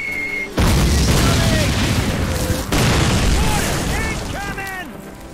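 Loud mortar explosions from the 2003 WWII shooter Call of Duty, two heavy booms with long rumbling tails, followed by faint chirping and whistling sounds near the end.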